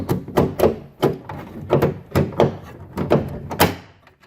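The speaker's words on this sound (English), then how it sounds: "you're pulling the handle out and back like that" A Porsche Cayenne front door handle is pulled and released repeatedly, giving a string of sharp mechanical clunks and clicks at an uneven rhythm.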